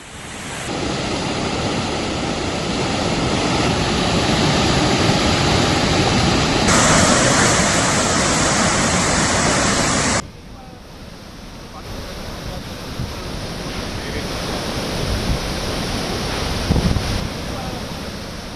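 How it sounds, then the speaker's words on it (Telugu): Floodwater rushes out of three opened gates of the Himayat Sagar reservoir as a loud, continuous roar. The broadband noise stays steady throughout, with some wind buffeting the microphone. "హిమాయత్ సాగర్ జలాశయానికి భారీగా వరద చేరడంతో 3 గేట్స్ ఓపెన్ చేసి దిగువకు నీటిని విడుదల చేశారు"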